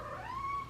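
A pet cat gives a single short, rising-and-falling meow, faint and somewhat distant indoors.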